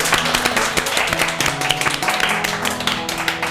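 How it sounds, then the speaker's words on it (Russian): A room full of people claps together at an inclusive cooking class, dense overlapping applause holding steady and fairly loud throughout. "Давайте друг друга поприветствуем аплодисментами."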